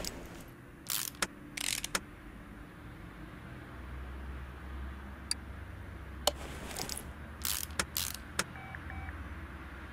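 Ratchet clicks as leaf spring bolts are tightened on a Jeep-like vehicle in Car Mechanic Simulator 2018, several short bursts of ticking spread across a quiet garage hum.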